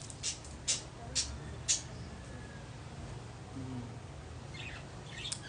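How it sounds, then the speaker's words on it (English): A few faint bird chirps sound in quick succession, distant and sparse over quiet outdoor background, with more soft calls near the end. "Can y'all hear the birds? I love the birds."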